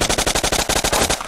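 Automatic weapon fire in the video game Blockpost, a single rapid burst of about a dozen evenly spaced shots, loud and close, ending abruptly.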